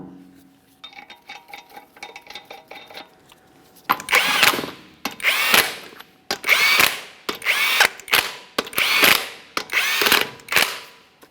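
22mm lug nuts being run onto a wheel with a power tool, with a quiet whirring start followed by seven loud, close buzzing bursts at regular intervals.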